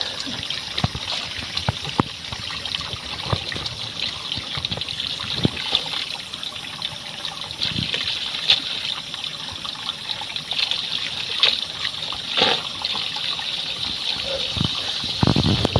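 Very cold water gushes and trickles from an underground spring in a forest, a continuous close splashing flow with small irregular spurts throughout and no talking.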